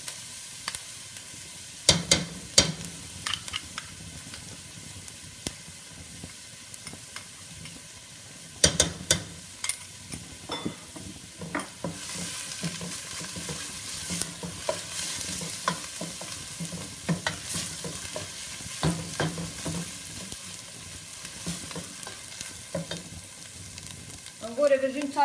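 Beef pieces sauté and sizzle in oil in a pan for a beef and pea stew, a steady frying crackle with repeated sharp scraping stirs and clinks, close up, with no speech.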